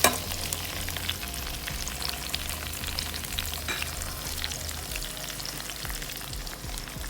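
Two medium chopped onions frying in oil for reshmi chicken, a steady low sizzle with faint stirring scrapes and a constant low hum beneath.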